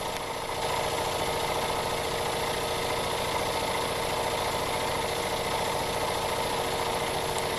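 A Jensen 50 engine idles steadily and smoothly, a constant close mechanical drone with no change in pace throughout.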